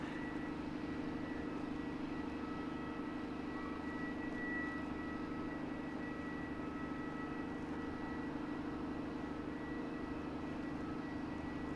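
An airliner approaches Christchurch Airport in fog, a steady, distant engine rumble and hum holding evenly throughout with no talking.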